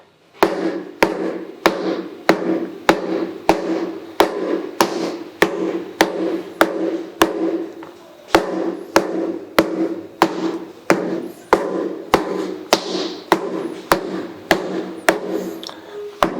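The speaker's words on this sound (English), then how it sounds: "We'll grab a mallet here, or a hammer, I should say" A hammer pounds steadily on the pocket of a steamed Yumomi leather baseball glove, roughly one sharp knock per second in an even rhythm, loud and close with no talking.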